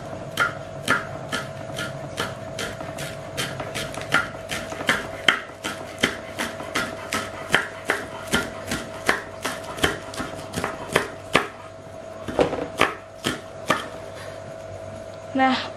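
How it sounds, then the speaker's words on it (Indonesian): Green onion and celery sliced thinly with a knife on a cutting board, a steady run of crisp close chopping taps over a low background hum. "Kemudian kita siapkan 1 batang atau 2 batang daun bawang bersama sedikit seledri. Kita akan iris tipis-tipis."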